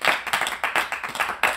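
A small group claps at a BTS livestream, the beats loose and uneven, about eight or nine sharp claps over a short stretch, close and fairly loud with no talking over them.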